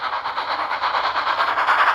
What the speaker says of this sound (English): But Percy did not know that this freight train was its destination